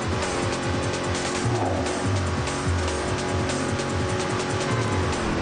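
Race cars in the street-racing video game Midnight Club 3 roar with layered engine drone while tires squeal repeatedly in short, rising bursts, loud and continuous throughout.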